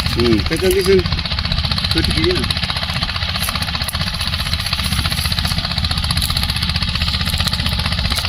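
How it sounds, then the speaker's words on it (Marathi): A DK Champion 16.5 HP tractor with a rear rotary tiller runs steadily while shredding heavy grass in a field, its loud, constant rattling engine drone filling the scene as a voice talks briefly near the start. "डीके चॅम्पियन ट्रॅक्टर कंपनीचे भरपूर गवताचा भुगा करत आहे रोटर बॅक रोटरी साडे सोळा एच पी ट्रॅक्टर"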